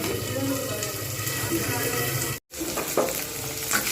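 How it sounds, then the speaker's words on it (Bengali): Green beans fry in oil in a covered pan over medium heat, giving a steady broadband sizzle with brief crackles and a short silent gap midway. "আমি এইরকমভাবে কিন্তু বেশ কিছুক্ষণ ভাজবো।"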